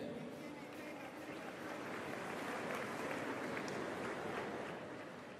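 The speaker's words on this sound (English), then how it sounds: "Est-ce qu'on peut l'applaudir, s'il vous plaît?" Applause at an IBA Champions' Night boxing award ceremony, a steady broad wash of clapping from an arena crowd that holds evenly for several seconds at a moderate distance, with no clear voice over it.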